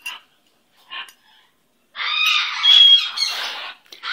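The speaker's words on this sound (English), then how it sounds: "Yes, sir, that's my baby bird." Pet baby bird squawking indoors on a couch, three short harsh calls followed by a louder, sustained burst of squawks close to the mic, with quiet gaps between the early calls.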